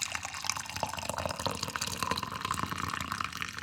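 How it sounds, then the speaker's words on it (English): Hot coffee pours steadily into a cup, a close, continuous liquid trickle and splash holding even for a few seconds without talk. "So first I'm just going to pour me some hot coffee."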